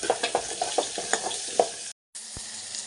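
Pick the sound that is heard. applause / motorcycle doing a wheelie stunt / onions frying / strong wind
onions frying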